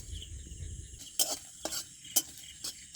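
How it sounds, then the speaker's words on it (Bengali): Whole coriander seeds, cumin and black peppercorns dry-roasting in a pan, stirred with a few distinct scraping strokes about every half second over a faint background hiss. "ধনেটা আগে একটু ভালো করে নাড়াচাড়া করে নিয়ে তারপরে গোটা জিরে আর গোলমরিচ দেবো"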